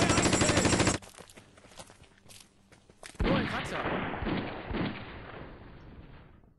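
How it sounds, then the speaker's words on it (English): Bursts of LMG machine gun fire in the wargame Conflict of Heroes, a loud rapid rattle in the first second, then quiet, then a second heavier burst of firing and rumbling impacts that fades away. "I'll get the LMG to hopefully take out that squad"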